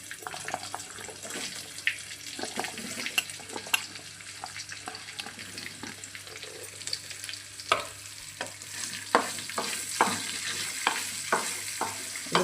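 Onions added after dried red chillies in a hot pan for a Telugu dondakaya ullipaya karam, frying with steady sizzle and frequent stirring scrapes, close and alone without talk.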